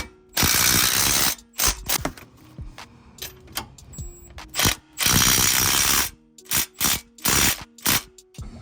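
Close, loud bursts of a hand ratchet clicking in quick runs as bolts are tightened on a lift bracket for a Jeep JK Wrangler, with short pauses and single clicks between the longer strokes.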